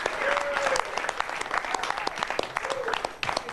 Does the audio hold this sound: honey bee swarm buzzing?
no